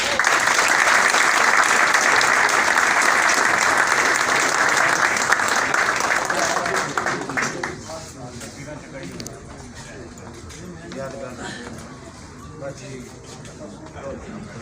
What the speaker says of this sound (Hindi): आप सब की भरपूर तालियों में खलीफा नवीद साहब लाहौर।